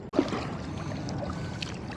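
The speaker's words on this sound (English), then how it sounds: "I love paddling along the shoreline in places." A kayak paddles along the concrete-chunk shoreline of North Brother Island in New York City, with soft water sloshing and trickling against the hull, steady and close, and a brief knock near the start.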